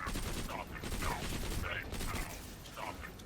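A Ricochet Fibber gun in Borderlands 2 fires rapid bursts of shots with clattering mechanical ricochets, loud and continuous against enemies, with a voice talking underneath.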